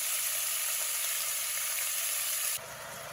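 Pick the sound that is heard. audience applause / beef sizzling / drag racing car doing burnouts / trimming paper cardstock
beef sizzling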